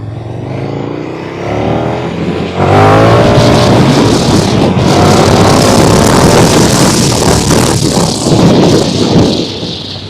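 A KTM 1290 Super Duke R motorcycle in sport mode pulls hard under throttle, its engine note climbing loud and close with rising harmonics, then holding a sustained high-revving roar amid heavy wind noise.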